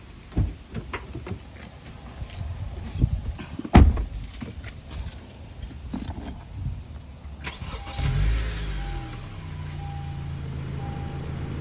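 Car engine cranking and catching after a jump-start with jumper cables: scattered clicks and clunks, then the starter turns over and the engine fires into a steady idle, close by and moderately loud.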